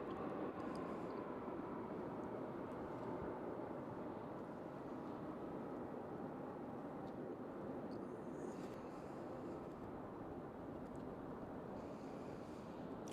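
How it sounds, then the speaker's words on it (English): A UPS Airbus A300 freighter at Louisville's UPS World Port gives off a faint, steady, distant jet rumble that holds evenly throughout with no talk. "this plane is UPS flight 2894, Airbus A300 freighter"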